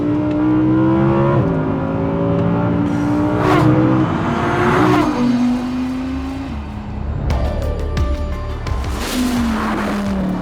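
An Audi R8 Performance's 5.2-litre naturally aspirated V10 revs hard and loud, pitch climbing and dropping through several surges and gear changes, with no voices over it.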